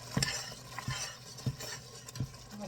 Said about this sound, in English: I am adding the green chilli